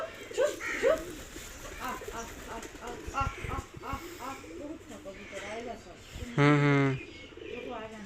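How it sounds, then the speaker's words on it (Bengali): Pigeons coo on a tin roof and among branches around a Bengali home in the early morning, soft low calls repeating intermittently beneath a woman's nearby chatter. "কবুতরগুলো দেখো কি ভালো লাগছে"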